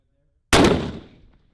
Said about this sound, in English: Right now, just sighting in rifles.